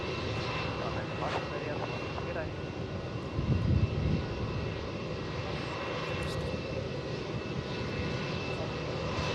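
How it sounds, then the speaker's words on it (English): Boeing 777-300ER jet airliner departing Melbourne Airport, a steady broadband engine roar filling the whole stretch with a brief louder swell near the middle, heard at a distance with faint talk beneath. "What type of plane is that? 777-300ER."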